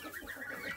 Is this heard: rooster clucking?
yes